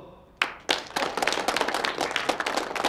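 Applause breaking out at a retirement tribute for a department head, starting with a few sharp claps and quickly building into steady, fairly close clapping from a small audience indoors.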